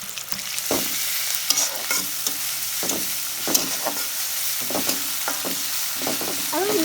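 Green chili with garlic and ginger paste frying in a pan, a steady sizzle broken by repeated scraping strokes of a spatula, close and fairly loud.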